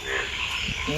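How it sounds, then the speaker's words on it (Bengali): Frogs croaking in a dense, steady chorus close by during a stormy night of heavy rain, the calls blending into a continuous rasping layer over rainfall noise. "খালি ব্যাঙ্গে ডাহে সারবে না।"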